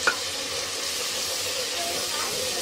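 Masala of coriander powder, salt and turmeric roasting in hot oil for sarson ka saag, a steady close hissing sizzle with a faint clink at the start.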